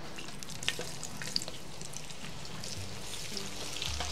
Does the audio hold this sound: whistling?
no